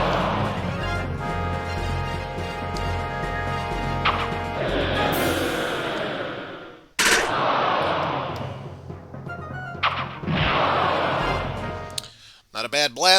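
Barrage attack blasts in a Monster Rancher video game: heavy crashing impacts and whooshing bursts in repeated waves over game music, loud and close, with a couple of abrupt cutoffs.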